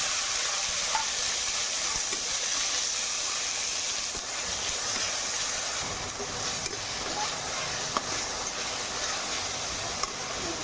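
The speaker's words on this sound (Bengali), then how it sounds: "এবার বেটে রাখা মশলা দিয়ে দেবো।" Ground spice paste frying with browned chopped onions in a pan, a dense continuous sizzle and hiss at close range, with occasional faint clicks and no clear talk.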